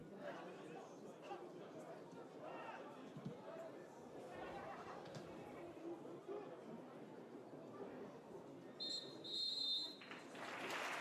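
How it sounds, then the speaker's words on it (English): A referee's whistle ends the first half of a pre-season friendly football match between RC Strasbourg and SK Sturm Graz, a short shrill blast near the end above continuous crowd chatter and commentary. "And that'll be the final whistle of the first half."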